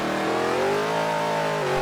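A trophy truck engine revs continuously in the MX vs ATV Unleashed off-road racing game, its steady mid-pitched drone climbing in pitch as it accelerates, loud and close with no speech.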